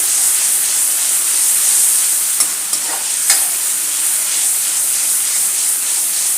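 Tomato puree cooking in oil on a low flame gives a loud, continuous sizzle and hiss with a few brief spoon scrapes in the middle.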